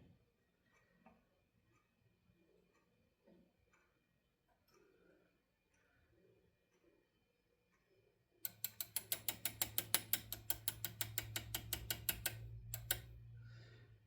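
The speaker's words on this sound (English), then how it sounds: "I'm going to put a key in there and jiggle it" A key jiggled inside an Ace 38mm lock being disassembled: quiet fiddling gives way to a fast, steady run of loud metallic clicks and rattles, close and alone.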